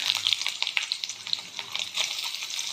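Whole cumin seeds sizzling in hot ghee: close, busy crackling and popping in quick irregular bursts over a bright frying hiss, with no voices.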